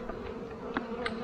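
Honeybees humming at a hive during a spring inspection, a dense steady buzz close by with a few individual bees flying past louder for a moment.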